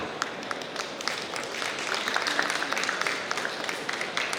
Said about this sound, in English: I would like to invite with a big round of applause Ms. Bobby Ramesh